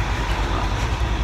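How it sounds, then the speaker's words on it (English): Steady rumbling ride aboard a tram in Manchester, a continuous broadband rolling noise with low rail clatter throughout, no voices. "So we're on the tram now."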